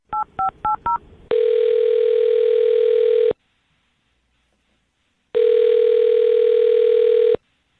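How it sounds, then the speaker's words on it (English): A telephone keypad beeps out four quick dialing tones, then a long steady ring tone sounds, pauses in silence, and rings again, clear and close with no voices. "I'm going to dial her phone number right now"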